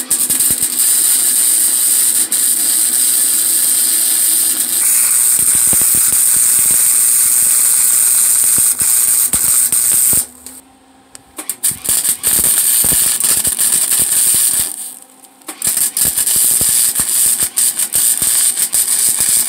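Tack welding shock mounts onto a buggy frame gives a loud, continuous close crackling hiss that runs for most of the stretch, broken by two brief pauses.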